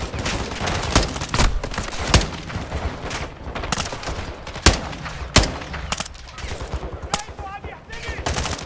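Rapid gunfire in Call of Duty Modern Warfare II fills the scene, dense automatic bursts and single sharp shots layered over one another, loud and sustained with voices faintly underneath.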